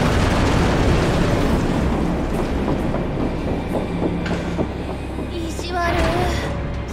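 A passenger train in the Final Fantasy 7 Remake video game rumbles steadily and loudly throughout, with clanking and hissing layered over the low roar.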